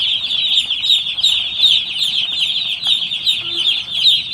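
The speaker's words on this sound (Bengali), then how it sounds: "দেখেন, সাদা সাদা হলুদে ব্রয়লার মুরগির ছানা," A crowd of one-day-old white and yellow broiler chicks chirps continuously, a dense, high, overlapping peeping heard close up with no talk.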